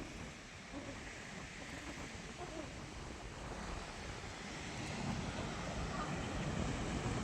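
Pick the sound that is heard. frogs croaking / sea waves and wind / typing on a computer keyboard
sea waves and wind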